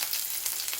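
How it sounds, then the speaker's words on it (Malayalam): Chopped onion and ginger sizzle steadily in a pan for a moment, a close, even hiss with no voices. "അതിലേക്ക് നമുക്ക് ചെറിയതാക്കി അരിഞ്ഞ് വെച്ച സവാള ഇട്ട് കൊടുക്കാം."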